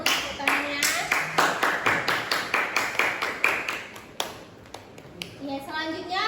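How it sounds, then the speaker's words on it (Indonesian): A classroom of students claps for a presenting group, a run of quick, fairly close hand claps that thin out and stop near the end, with children's voices around them. "Tepuk tangannya."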